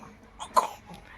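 A man gives one short cough, faint and somewhat distant, against quiet outdoor background noise.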